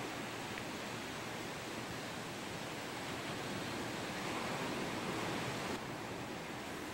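Rough sea on a wavy day produces a continuous broad wash of surf and water noise at steady loudness, heard alone without talking.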